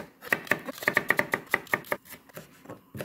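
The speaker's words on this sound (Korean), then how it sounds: "먼저 파를 좀 잘라줄게요" A knife chops green onions on a cutting board in a quick run of about a dozen crisp, close strokes that slow toward the end.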